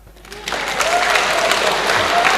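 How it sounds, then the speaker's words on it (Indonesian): An indoor crowd at a Catholic family spirituality gathering claps in a burst of applause that starts quickly and holds steady, with a voice faintly audible underneath. "Tepuk tangan."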